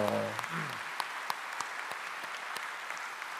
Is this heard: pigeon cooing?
no